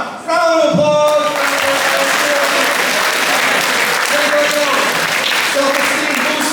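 A crowd bursts into steady, loud applause that fills the room, with a voice speaking over the start and briefly again near the end.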